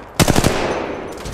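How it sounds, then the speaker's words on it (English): A short, loud burst of rapid gunfire in a video game, a handful of quick shots fired close up that then fade into a lingering tail. "Opening fire."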